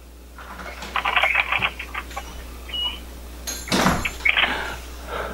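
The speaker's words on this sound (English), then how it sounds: "the door's open" A door opening and closing on a home fitted with an ETSROW 2K high definition video doorbell, with a rattle of hardware, a brief squeak, then a louder clunk and knock near the end, close by and without voices.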